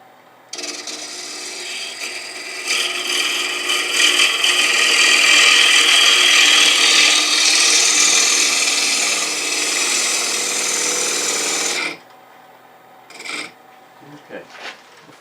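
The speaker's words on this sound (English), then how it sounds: "let me just take a couple of passes with this shear scraper" A shear scraper cuts wood on a spinning lathe, a loud continuous rasping scrape lasting about eleven seconds with swelling intensity, then stops, followed by a couple of brief light scrapes.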